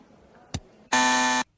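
An alarm buzzer from a Simpsons cartoon sounds once in a loud, harsh, steady half-second blast after a brief thump, then cuts off sharply.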